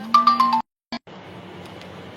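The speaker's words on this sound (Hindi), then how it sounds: "एक वकील साहब का बार बार फोन आ रहा था" An incoming-call phone ringtone plays a short run of bright repeated electronic tones, cut off abruptly, followed by a brief blip and then quiet room hiss.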